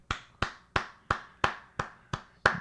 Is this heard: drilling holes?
no